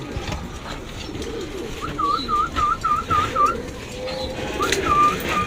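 Domestic pigeons being penned up, with a string of short repeated whistle-like coos in the middle and another near the end, heard over a noisy outdoor background with a hint of voices.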